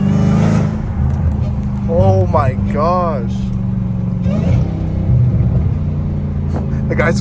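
A Dodge Hellcat Redeye's engine rumbles with a loud, high supercharger whine that swells and falls through quick revs, close and powerful, while a person exclaims over it.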